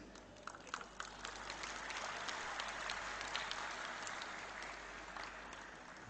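Audience applause at a university graduation ceremony, a broad steady wash of many hands clapping from start to finish, dense and continuous with a few sharper claps rising out of it.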